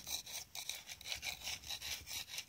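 A rusty car part is rubbed down in quick back-and-forth strokes, a close, rhythmic rasping scrape repeating about four times a second.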